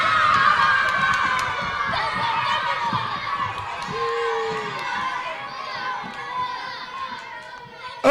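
Crowd of children at a kids' show shouting and cheering together, a loud, excited jumble of young voices with high squeals that swells and fades unevenly, ending in a sudden burst.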